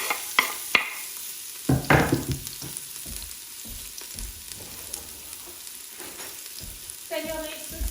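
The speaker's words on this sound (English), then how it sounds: "add some extra virgin olive oil to your Instant Pot first, put it on saute, give it a minute or two so it can start warming up, and then add in some sliced onions" Sliced onions sautéing in extra virgin olive oil in an Instant Pot, a steady sizzle with occasional stirring scrapes and clatter of a wooden spoon close by.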